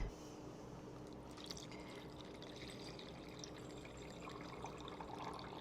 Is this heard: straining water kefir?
yes